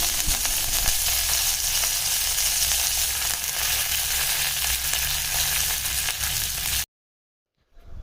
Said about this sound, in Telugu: కడిగి కట్ చేసి పెట్టుకున్న క్యాబేజీని వేసేసుకుంటున్నాను